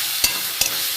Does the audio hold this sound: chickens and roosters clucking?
no